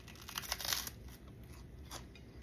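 Close, quiet biting and crunching of chicharrón preparado, a few crisp crackles clustered early, then softer chewing crunches.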